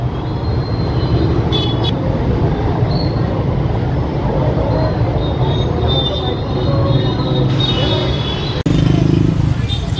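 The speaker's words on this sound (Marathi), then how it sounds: "आणि हे ट्रॅफिक बघा किती झालं" Heavy evening rush-hour road traffic in Pune, a continuous loud rumble of engines and passing vehicles with a brief surge near the end, while people talk over it.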